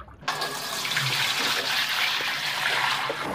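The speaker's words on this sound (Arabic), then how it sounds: "نسيب الحمام يستحمى" Steady, loud splashing and rushing water from pigeons bathing in a tub of water, a continuous wash of liquid sound heard alone without talk.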